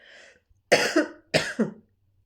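Two hard, close coughs in quick succession, each a harsh double burst, after a faint breathy sound.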